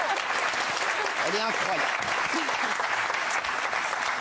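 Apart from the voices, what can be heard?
audience applause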